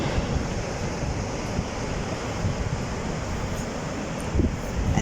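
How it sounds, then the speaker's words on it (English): Ocean waves crash and churn at the foot of a lighthouse at Mossel Bay, South Africa, a steady loud roar of surf with wind buffeting the microphone, no voices. "At the crashing waves."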